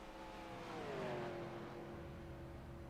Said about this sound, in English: You can hear the car started up.